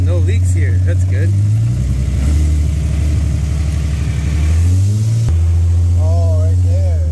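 A car engine with a tiny hole in the bottom of its exhaust idles and revs up and down nearby, a steady mid-pitched drone that rises and falls while people talk over it.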